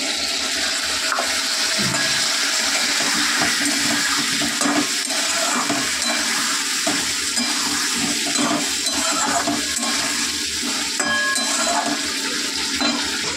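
Water poured into a cooking pot of split lentils and rice, a steady broadband rush of liquid running continuously and fairly loud, with no talk over it.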